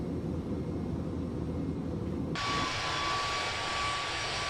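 Aircraft engine ambience in the flight simulator game Microsoft Flight Simulator 2024: a steady broadband engine roar that shifts halfway through to a brighter, hissier whine with a sustained tone, continuous and fairly loud.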